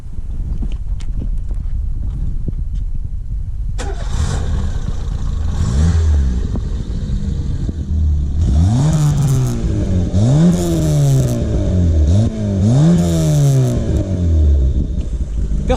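A Peugeot 106 engine revs through its aftermarket exhaust line, several rising and falling throttle blips with a raspy tone, close and loud over a steady idle rumble, with no talking.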